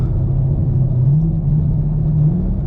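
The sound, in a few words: Camaro SS engine revving at high RPM after downshift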